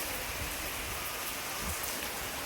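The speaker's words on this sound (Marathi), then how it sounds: "पाऊस पडतोय" Steady, dense first rain of the season pours down without a break, a continuous hiss of drops striking surfaces nearby.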